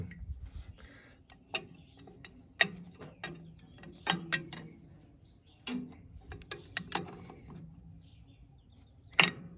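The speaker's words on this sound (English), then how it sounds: "Taking off the injector lines that go to the pump, which is just taking them off, taking the bolt out" Tools work on the injector lines at the pump of a John Deere 2020 tractor, with scattered sharp metallic clicks and short ratcheting bursts at irregular intervals against a quiet background.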